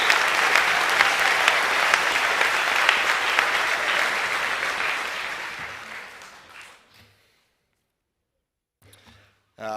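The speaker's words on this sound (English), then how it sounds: "I might give them one more round of applause" Audience at a school academic awards evening gives a sustained round of applause that fills the room, then tapers off into near silence with a few faint stray sounds at the end.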